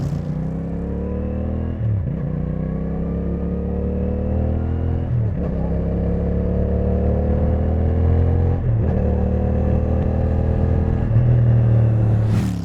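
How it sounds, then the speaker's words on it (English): A CFMOTO 450SS motorcycle with a Yoshimura slip-on exhaust rumbles steadily while riding, revving up in several surges with brief gear-shift dips, loud and close throughout with no talking. "that way you can get a riding sound"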